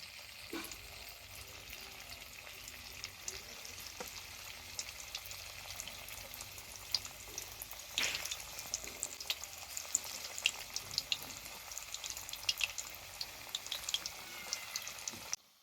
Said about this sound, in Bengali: এবার বাকি পকোড়াগুলোও ভেজে নেব।